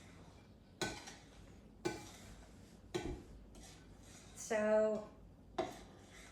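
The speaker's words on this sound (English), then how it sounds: "So here we go. We're gonna mix." Banana bread batter stirred in a bowl, with a few separate scraping, knocking strokes spaced about a second apart and one brief clatter, fairly quiet, with a short spoken word near the start.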